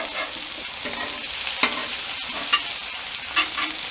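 Zucchini sizzles on a cooking stone seasoned with coconut oil, a soft continuous crackling hiss with a few light taps and scrapes of a utensil, close up, no talking.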